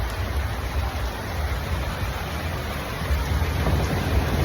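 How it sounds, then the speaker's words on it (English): Heavy nighttime rain in Thailand pours as a dense, steady hiss close by, with low rumbles that could be distant thunder and no talking. "it's raining, thundering and lightning"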